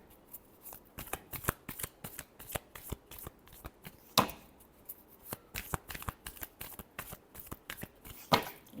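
A deck of tarot cards being shuffled up close, producing quick flurries of sharp riffling flicks and slaps in irregular bursts with brief pauses between them.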